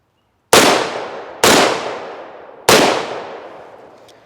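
A lightweight AR rifle fires three loud, close shots at uneven intervals, each a sharp crack followed by a long decaying echo outdoors.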